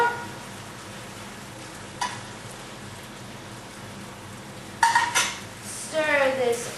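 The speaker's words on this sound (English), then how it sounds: "Stir this onion soup again" A spoon stirring onion soup in a pot on the stove, quiet scraping and swishing with a couple of sharper clinks of utensil against the pot toward the end; no talk.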